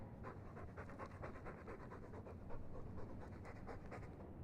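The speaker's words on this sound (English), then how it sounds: "All that noisy dog breath" A dog pants in the video game Dragon Age 2, quick, rhythmic breaths repeating steadily from start to finish at a fairly quiet level, with no talking.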